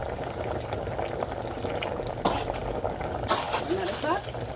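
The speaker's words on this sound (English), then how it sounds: "let's get some more water into the pot" Water gushes steadily into a cooking pot while Jamaican-style curry goat is being prepared, a continuous close rushing and splashing with a few faint clinks near the end.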